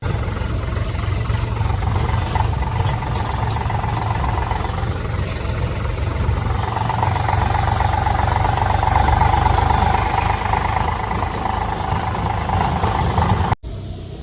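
A tractor engine runs steadily at close range during silage loading with a low, rumbling drone and slight shifts in pitch, then cuts off abruptly at the end.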